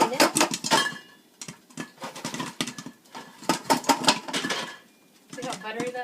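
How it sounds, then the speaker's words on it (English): Movie popcorn pops inside a pot being shaken, making dense bursts of rattling, clattering pops in uneven waves with brief lulls between them. "Keep shaking it good, let it keep popping"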